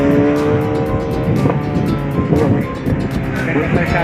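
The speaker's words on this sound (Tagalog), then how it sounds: "Maraming sasakyan ngayon." Heavy road traffic rumbles past nearby at night, a loud continuous engine drone with swelling pass-bys and low road noise, while someone talks over it.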